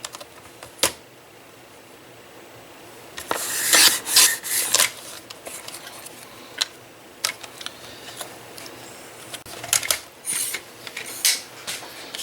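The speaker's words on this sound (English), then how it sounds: "You could do it with your X-Acto knife if you want to." An X-Acto craft knife cutting paper for a winter lantern, a series of close, scratchy rasping strokes in irregular bursts over a quiet background, with no talk.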